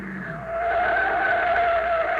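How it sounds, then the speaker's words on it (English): In an old-time radio drama, a car drives onto a field with a sustained, loud tire squeal and skidding whine over engine noise, continuous and close, with no speech. "Hey, what's that car doing? He's coming right out on the field."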